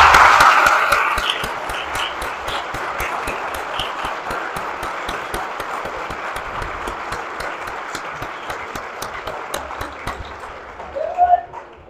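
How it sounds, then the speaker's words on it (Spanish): An audience applauds at a town festival proclamation in El Cubo de Don Sancho, with long, even clapping from a crowd, a brief voice at the start and a small stir near the end. "os pido un aplauso para ellos"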